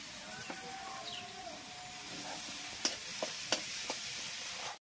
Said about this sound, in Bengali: একটু নেড়ে চেড়ে নিয়ে দিয়ে দিচ্ছি আদা আর কাঁচা লঙ্কা বেটে রেখেছিলাম সেটা